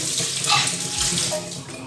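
Running water from a tap rinses something under the stream in a kitchen, a steady close splashing hiss that continues throughout with slight shifts as the flow is interrupted.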